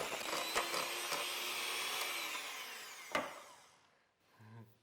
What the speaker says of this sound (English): We are trying to cream the butter, which is creaming the butter and the sugar together.